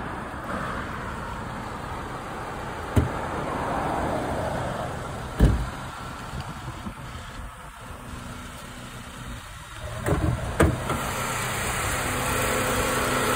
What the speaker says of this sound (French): On peut voir le moteur un peu, c'est possible? Laissez-le tourner.